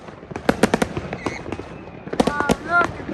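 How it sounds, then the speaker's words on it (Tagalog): New Year fireworks exploding all around in the Netherlands, with sharp cracks and bangs in quick clusters and whistling rockets, loud and near, while people exclaim over them. "Lahat ng side may fireworks."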